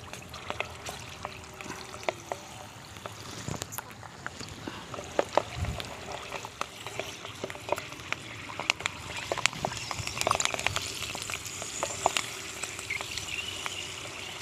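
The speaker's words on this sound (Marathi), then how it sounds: "आपण अखंड मिरच्या तळणार आहोत" Whole green chilies for bhaji fry in oil over a wood-fired stove, giving a soft continuous sizzle scattered with sharp crackles, pops and occasional clinks of a slotted spoon, all at moderate, close range.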